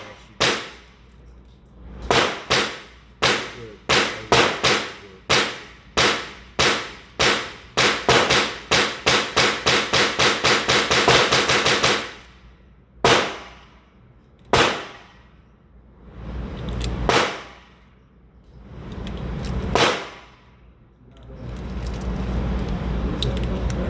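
Pistol shots from a Glock 45 at a shooting range, sharp loud cracks fired singly at first, then a fast rapid string of rounds, followed by a few spaced shots and a longer rumbling finish.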